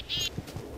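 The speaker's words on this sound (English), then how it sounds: "There's cows and birds everywhere." Short burst of Minecraft farm-animal calls, a nasal duck-like quack rising above a busy background of other animal noises, close and fairly loud, with no talking.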